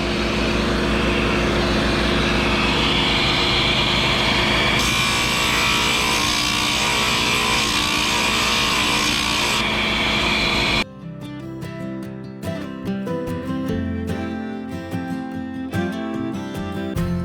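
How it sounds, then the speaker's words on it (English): Steady, loud grinding rasp of a thunderegg rock being sanded with 60-grit abrasive on a power tool, running continuously for about ten seconds before stopping and giving way to a different, clattering mechanical sound. "I just finished sanding with the 60 grit"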